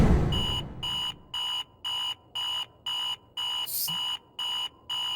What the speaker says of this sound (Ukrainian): Спрацьовує будильник